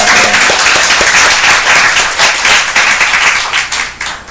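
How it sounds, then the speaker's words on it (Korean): A church congregation gives a round of thankful applause, loud and close clapping that holds steady for a few seconds and then thins out near the end. "다시 한번 감사 박수 드릴까요"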